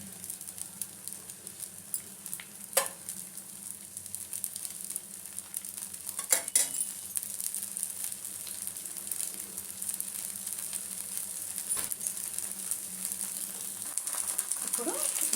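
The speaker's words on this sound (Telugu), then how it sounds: "ఇప్పుడు ఇట్లా వేసేసుకోండి దోశ." Dosa batter frying in oil on a hot pan, a continuous close hiss and sizzle that swells slightly over time, with a few brief clinks and scrapes of a utensil.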